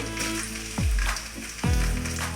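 Chopped onions sizzle in hot coconut oil, a steady frying hiss with two louder low thumps or stirs partway through, close by and with no one talking.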